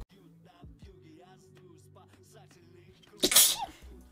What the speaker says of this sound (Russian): Ой, чихнула.